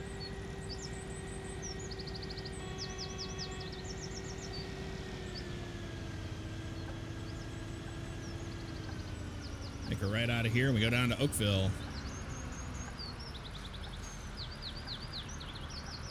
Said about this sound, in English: those bird sounds are a little loud right now